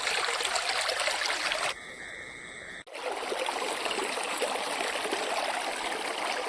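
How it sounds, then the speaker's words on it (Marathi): A small stream trickles and gurgles steadily nearby, with a brief dip in the flow partway through before the continuous watery rush resumes. "पाण्यात एवढं छोटंसं झरणं आहे"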